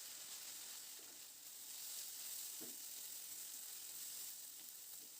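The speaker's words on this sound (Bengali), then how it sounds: "এবার এই মশলাগুলোকে তেলের মধ্যে নাড়াচাড়া করে মিনিট 3-4 সময় ধরে একটু ভেজে নেব।" Spices with four or five green chillies fry in hot oil for cauliflower curry, giving a soft, continuous sizzle with faint stirring scrapes now and then, heard alone without speech.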